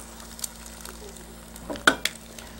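Eggs frying in a pan for a liver pudding breakfast sandwich, with a low steady sizzle and a few sharp splatter pops bunched near the end, close and fairly quiet.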